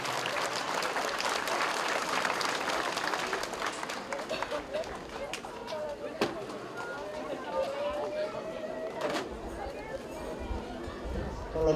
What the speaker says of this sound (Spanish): Un fuerte aplauso para Nuestra Señora del Cielo